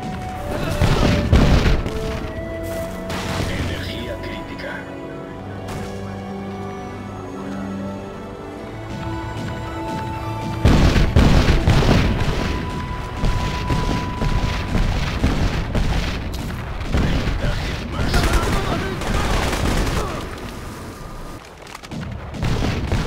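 Heavy booms and crashing blasts from an ammunition depot exploding in the Crysis shooter game, mixed with gunfire and rumbling debris, loud and continuous with a fresh surge of detonations midway through.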